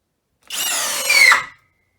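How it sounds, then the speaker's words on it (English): A Skil 12V brushless drill runs at high speed driving a fastener, one continuous loud whine of about a second that rises in pitch and strain near the end before cutting off. "I'm going to try these in high speed and see if they can drive this fastener in"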